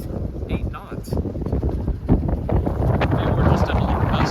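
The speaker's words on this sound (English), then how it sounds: "for some reason there's a 15 knot wind" A strong wind of about 15 knots buffets the microphone aboard a sailboat under way, gusting and rumbling unevenly throughout.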